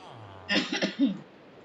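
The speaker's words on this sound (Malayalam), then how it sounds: "ചുമ" A short burst of coughing, two or three quick close coughs in a quiet setting.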